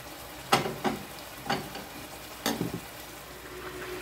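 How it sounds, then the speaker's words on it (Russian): Meat frying in a pan for plov sizzles softly, broken by a few short stirring scrapes, three louder bursts spread over a few seconds, close and with no one speaking. "Мясо мое жарится."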